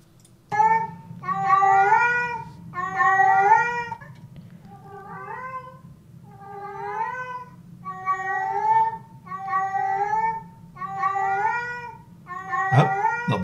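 Several house cats meow and caterwaul in a long series of drawn-out, wavering cries, loud and close, with a low steady rumble beneath and a sharp knock near the end.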